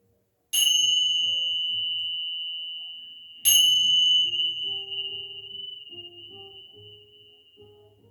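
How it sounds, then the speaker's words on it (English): Two bright resonant bell strikes at a hatha yoga session, each ringing with a clear sustained tone that slowly decays and shimmers, the second struck a few seconds after the first, alone and quiet. "Let your mind, your body, and your soul absorb the vibrations of the bells"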